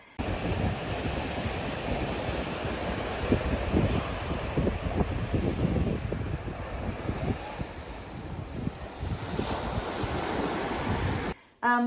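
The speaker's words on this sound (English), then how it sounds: "the magnificent sound of the waves from the Atlantic Ocean crashing to the shore" Atlantic Ocean surf roars continuously, with a low rumble of waves breaking on shore and some wind noise buffeting the microphone, before the sound cuts off abruptly.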